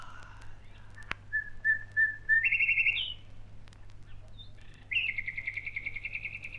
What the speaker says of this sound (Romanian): să ascult privighetoarea